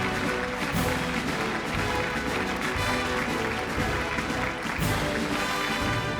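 Steady applause from an audience at a corporate sustainability awards ceremony as a steel and power company is honoured, dense continuous clapping filling the hall at an even level throughout.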